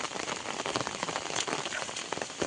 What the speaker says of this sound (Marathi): मस्त पाऊस पडतो आता 2 दिवस एकदम लावणीसारखा